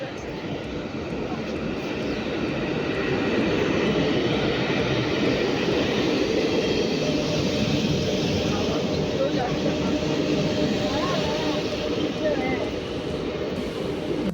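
An Asansol MEMU local train pulls into a station, a loud, continuous rumble and roar that stays steady throughout with no clear speech.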